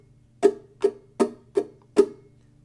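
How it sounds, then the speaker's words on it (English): Muted guitar strings strummed in a down-down-up pattern, giving five crisp percussive chucks at an even pace with no ringing notes, close and alone. "I'm muting the strings. I'm just laying my fingers on the strings and I'm working and focusing on my strum"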